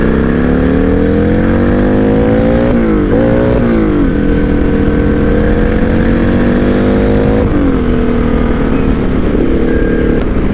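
Turbocharged Buell M2 motorcycle running at about 9 psi of boost on the road: a loud, close engine drone climbs steadily in pitch, dips abruptly twice as a shift is missed, then pulls on again, with no talk.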